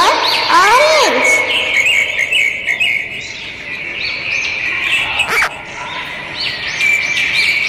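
A parrot gives shrill, rising and falling calls and whistles over a busy backdrop of other chirping birds, loud and close, with several sharp squawks across several seconds.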